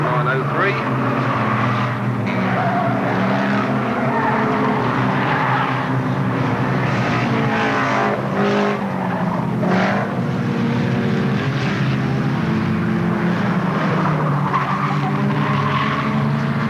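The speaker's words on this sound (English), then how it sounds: "Spins himself out on the city bend" A race car spins out on a bend at a 1983 oval meeting, heard as dense engine roar and tyre noise from several cars, loud and continuous, with a commentator's voice running throughout.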